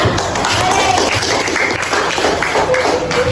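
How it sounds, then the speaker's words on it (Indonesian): Pupils in a school classroom clap for a student group after its presentation, a dense, loud, steady burst of many hands with some murmuring voices mixed in. "tepuk tangan untuk kelompok 5"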